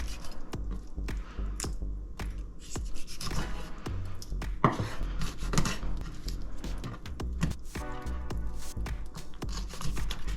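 Sharp knife cutting raw chicken wings, close-up with a rapid series of slicing, scraping and wet squishing sounds and no talking.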